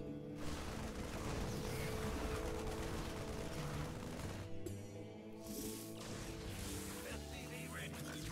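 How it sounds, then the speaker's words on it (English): Explosions and weapon fire in a StarCraft II Terran versus Protoss battle, a dense continuous barrage of booms and gunfire layered over game music, with a voice talking throughout. "Some nice explosions."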